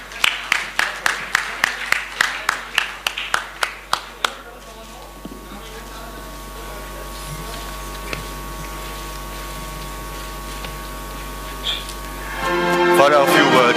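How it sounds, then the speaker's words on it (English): Audience clapping at an awards ceremony, a run of sharp rhythmic claps that stops abruptly after a few seconds, leaving quiet room tone and a soft swell near the end. "Congratulations and a huge, huge round of applause."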